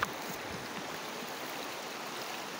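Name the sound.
knee-deep water being waded through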